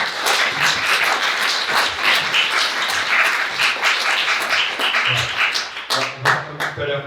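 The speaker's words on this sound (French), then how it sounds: "Applaudissements." An audience claps at the close of a presentation on an Emmaüs project in Saint-Jean-de-Linières. The applause is sustained and steady, then tapers off as voices begin talking near the end.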